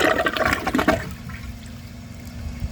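A 2006 Vitromex Marathon II comfort-height 1.6-gallon toilet flushes with a loud, close rush of water for about a second, then settles into a quieter gurgle and refill trickle.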